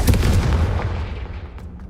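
The Confringo blasting spell cast in the video game Hogwarts Legacy on PS5: one heavy, booming explosion right at the start that rolls and fades away over about two seconds.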